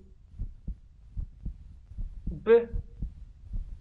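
Fast heartbeat sound effect from the video game Super Normal: a regular series of soft, low thumps repeating about every half second, with a brief voiced sound breaking in partway through.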